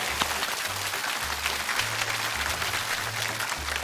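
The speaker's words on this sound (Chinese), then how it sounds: "鼓掌。" A studio audience applauds steadily for the whole stretch, a dense, even wash of clapping with low hum underneath.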